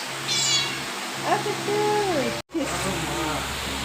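A mother cat with her kittens meowing several times, drawn-out rising and falling cries close by, with a person talking softly around them.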